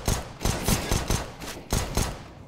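Bursts of rapid gunfire in a Portuguese-language multiplayer shooter match, several clustered volleys of sharp shots repeating in an uneven rhythm, loud and close, with no talk over them.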